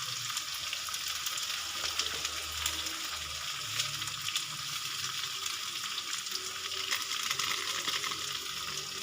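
Filling for spicy stuffed tofu frying in a pan and being stirred, a soft steady sizzle with faint scraping, fairly quiet and without talk.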